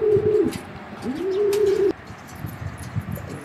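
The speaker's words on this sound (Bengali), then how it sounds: "এইখানে দেখতে পাচ্ছেন এক জোড়া রেসার হুমা কবুতর" A pair of racing homer pigeons, a grizzle cock and a hen, give two drawn-out, close cooing calls in quick succession, followed by softer rustling and faint chirps.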